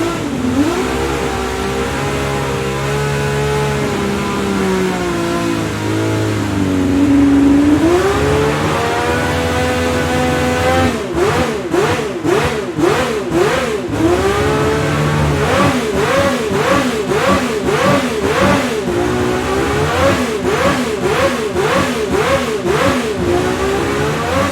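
A racing car engine in Gran Turismo 7 revs loudly, rising and falling in pitch, then settles into rapid repeated revving bursts with no voices.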